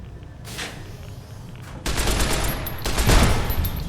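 Gunfire in Fallout: New Vegas, a sustained burst of in-game shots that gets louder partway through and keeps going steadily, with no talk over it.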